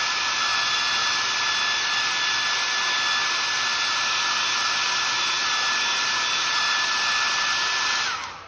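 Warm air blowing over a freshly painted crankbait lure, a steady loud whirring blower hum held evenly throughout before cutting off at the end, no voices.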